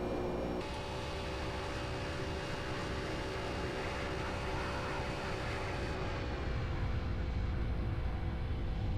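Steady engine drone of a FlightFactor 757 airliner in the X-Plane 12 flight simulator, a loud continuous roar with sustained tonal whine that holds evenly throughout, alone without talk.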